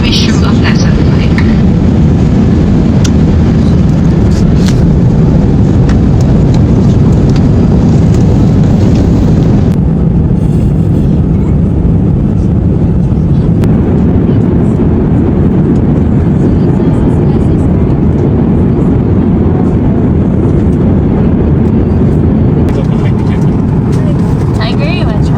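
An airliner takes off in a steady, loud cabin roar of jet engines that holds throughout, with a cabin announcement and passenger talk over it.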